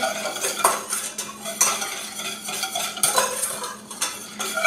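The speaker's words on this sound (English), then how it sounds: "start whisking them together" A whisk beating milk and vanilla into a warm mixture for cinnamon roll icing, rapid clinking strokes against a bowl in uneven bursts, close and clear, without any talk.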